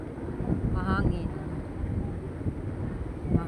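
A cool Amihan wind blows outdoors in a crowded spot, a steady gusty rush buffeting the microphone while people talk faintly nearby.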